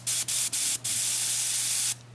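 An airbrush spraying watered-down brown weathering paint on a model locomotive hisses in three quick bursts, then sprays one long continuous stream before cutting off, close and steady.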